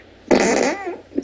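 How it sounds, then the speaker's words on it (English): A single loud, buzzy fart sound lasts nearly a second, then trails off with a short faint blip. No one speaks over it. "Somebody fart."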